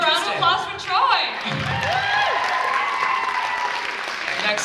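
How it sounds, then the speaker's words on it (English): Audience applause at the Mr. & Miss WHS 2018 school pageant for contestant Troy, a steady wash of clapping filling the hall, with an emcee's voice and cheers rising over it near the start. "applause for Troy."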